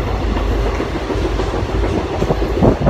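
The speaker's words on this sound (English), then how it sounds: "train has departed and uh, we are on time." A passenger train from Mumbai to Nashik rolls along the rails, heard from on board as a steady low rumble with rhythmic clickety-clack of wheels over track joints, loud and continuous.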